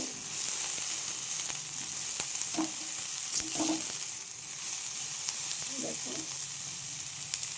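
Eggplant pieces frying in a pan give a steady broadband sizzle with a few soft clinks of stirring scattered through it, close and even, with no voices.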